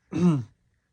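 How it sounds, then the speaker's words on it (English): A single short cough, close and distinct, followed by quiet. "that cough was so good"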